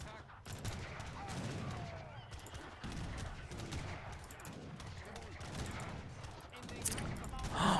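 Cannon and gunfire in a video game: a dense barrage of shots and blasts rolls on continuously while someone talks over it.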